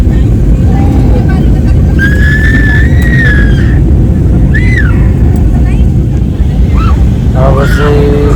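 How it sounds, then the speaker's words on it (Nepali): Airliner cabin during descent for landing on a flight from Nepal to India, heard as a loud, constant engine and air roar close around the listener, with faint voices and brief tonal sounds in the background. "अब चाहिँ प्लेन चाहिँ अवतरण गर्ने क्रममा छ होइन ल्यान्ड हुने क्रममा छ"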